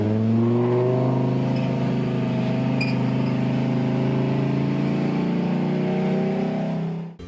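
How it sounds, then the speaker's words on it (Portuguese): A Fiat Marea five-cylinder engine holds a loud, steady, growling rev with strong low harmonics for about seven seconds, then cuts off sharply at the end. "estes propulsores 5 cilindros têm uma outra característica única no que se refere ao som, no caso ronco"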